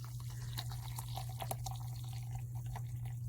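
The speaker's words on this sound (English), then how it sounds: "I have my little tea kettle here. I hope the water in here is still hot." Hot water trickling and dripping from a small tea kettle into a container, soft intermittent splashes over a low steady hum.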